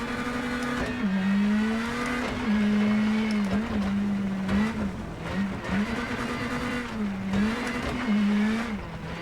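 A rally car in WRC 10 drives on wet dirt in the rain, its engine droning loud and close at a steady pitch with repeated small dips and shifts as the car slides.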